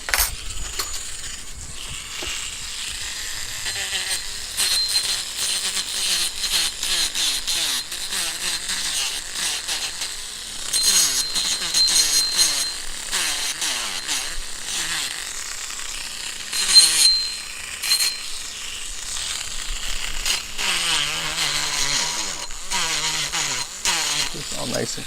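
A belt sander fitted with an 80-grit belt grinds a whale tail bangle, making a continuous rough whirring and scraping that rises and falls in intensity, with someone talking over it throughout.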